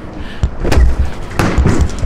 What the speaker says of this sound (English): that door is heavy as fuck